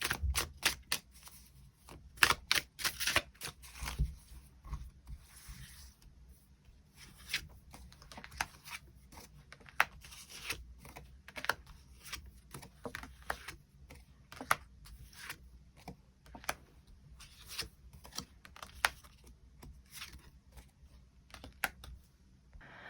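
Tarot cards are shuffled and drawn in a quiet room, making a long series of soft, irregular clicks and riffles that are faint and close by, with short pauses between bursts and no talking.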